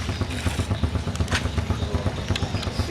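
A ketinting longtail boat engine, a Ninja turbo, revs during a test run, a steady rough pulsing drone with rhythmic throttle surges, close and loud throughout.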